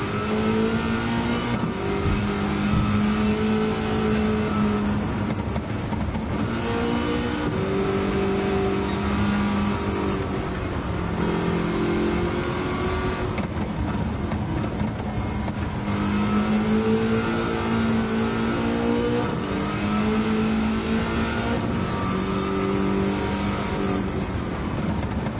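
An LS7-swapped car in Gran Turismo 7 revs and accelerates in repeated waves, the engine note climbing and dropping through shifts, loud and steady without speech.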